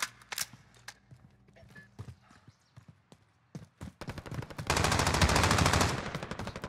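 Rapid bursts of gunfire from a shotgun in the Call of Duty game, a few sharp scattered shots early on, then a dense, loud sustained volley of rapid shots near the end.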